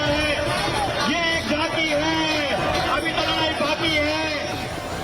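A large crowd at a rally on the Parade Ground in Dehradun keeps up a steady, loud murmur of many voices, with chanting and shouting rising above it.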